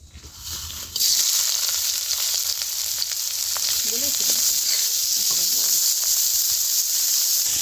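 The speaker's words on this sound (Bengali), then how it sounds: "এই চিংড়িগুলো এবারে তেলের মধ্যে দিয়ে ভেজে নেব" Field shrimp drop into hot oil in a wok, and a loud sizzle bursts up suddenly and holds strong and steady. A faint voice shows briefly beneath the frying.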